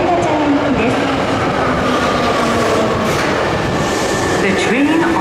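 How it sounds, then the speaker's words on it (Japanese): An Osaka Metro Sakaisuji Line train pulls into Ebisucho underground station with a loud, continuous rumble, rolling wheel clatter and rising and falling squeals and tones. A platform announcement voice runs underneath throughout. "到着の電車は動物園前方面天下茶屋行きです。"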